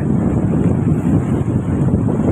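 Steady roar of ocean waves and wind blowing over the Mambrui sand dunes near Malindi, Kenya, a constant loud broadband rush with heavy wind buffeting on the microphone and no voices.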